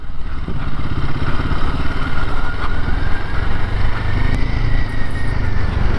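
A motorcycle engine runs steadily and loudly throughout, a continuous close rumble with faint rattling, arriving at a waterfall in Wayanad.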